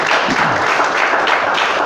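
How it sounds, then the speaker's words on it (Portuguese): A church congregation applauds steadily, dense clapping filling the whole moment without pause, loud and close. "Vamos aplaudir o Senhor, vamos glorificar."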